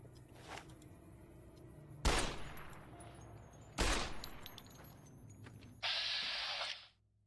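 Gunfire in the Fallout video game: two sharp, loud shots a couple of seconds apart, then a sustained hissing burst near the end, with faint game ambience between.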